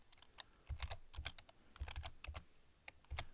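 Typing on a computer keyboard, with irregular clusters of quiet, close keystrokes and clicks sounding alone without talk.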